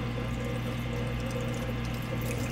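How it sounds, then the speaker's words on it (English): A Samsung front-loading washer drains water with a steady, continuous rushing and pump hum at close range, unbroken and even throughout. "it's running that drain right now, getting all the water drained out"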